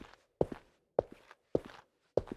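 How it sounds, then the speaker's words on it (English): Four crisp heel clicks on a hard floor, evenly paced with short gaps, each a sharp tap followed by a softer scuff. "It's the perfect sound design tool for walking sounds."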